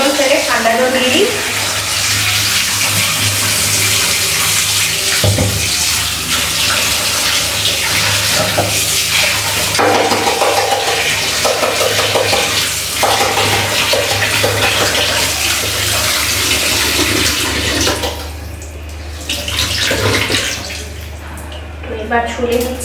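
Hot water is poured off and cold water is run into a kitchen container, making loud, continuous splashing and gushing close by that briefly eases near the end before resuming.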